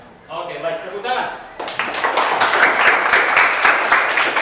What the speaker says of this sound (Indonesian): Oke, baik, tepuk tangan.